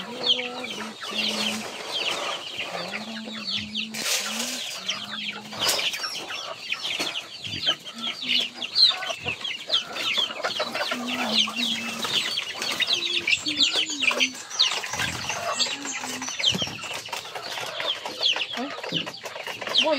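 Chickens cluck steadily and close by throughout, a busy chorus of short calls with occasional louder squawks, on a backyard farm where the birds are waiting for feed.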